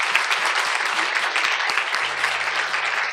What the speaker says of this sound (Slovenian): Dajmo jim še en aplavz.